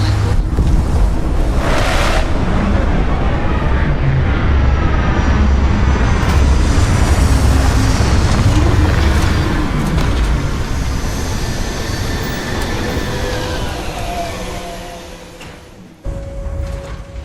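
A spaceship landing in Starfield sets off a loud, sustained engine roar with rushing whoosh, a sweeping tone, then a thud and a softer tail as it settles, with no voices.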